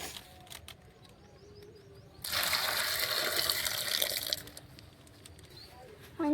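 Water pours into a pot of mixed vegetables (drumstick, chayote, beans, broad beans, tomato) for village-style aviyal, a loud gushing burst lasting about two seconds in the middle, with quieter kitchen sounds before and after.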